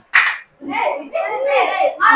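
Children play the 'tepuk malam' clapping game indoors, with sharp hand claps mixed into a lively chant of young voices.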